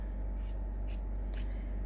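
Fabric scissors snip through fabric scraps during raw edge appliqué, three short close crisp cuts in an even rhythm over a low steady hum.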